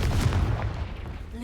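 A fire-blast spell from a video game bursts with a loud, dense boom that fills the whole moment, a rumbling explosive roar with no talking over it.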